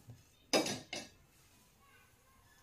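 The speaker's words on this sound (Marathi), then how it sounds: "तवा ठेवूया" A metal griddle pan (tawa) is set down on a gas stove, giving two close metallic clanks about half a second apart over a quiet kitchen background.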